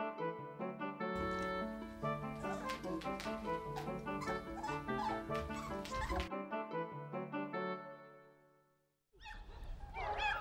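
Young puppies around two to three weeks old whimper and yip in a litter, a continuous run of high, tonal cries and squeaks, fairly close, with a short break before more yelps near the end.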